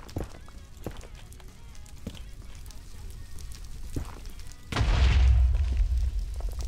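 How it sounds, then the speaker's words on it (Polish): A loud, deep Minecraft explosion bursts in at once and rumbles on for a couple of seconds. Faint footstep-like taps and scattered clicks precede it. "Teraz wybuchło na większą skalę"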